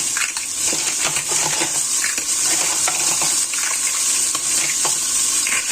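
Clams tumble into a hot pan with pork liver, a steady bright sizzle dotted with scattered shell clicks and clatters throughout, close and alone without any voices.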